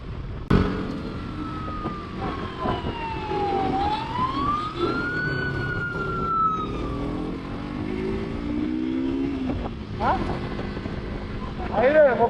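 An ambulance siren wails on a road in Kandy, heard from a motorbike ride, its rising and falling tone sweeping loudly over steady engine and traffic noise.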